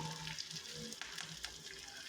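Mustard seeds, garlic, curry leaves and dried red chillies sizzle in hot oil for tempering, a steady close crackle with small pops and a stirring scrape.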